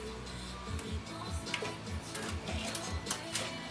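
A sewing machine runs a straight stitch through coiled clothesline rope for coasters, giving a close, steady run of rhythmic mechanical thumps and clicks with a faint whirring hum underneath, and no voices.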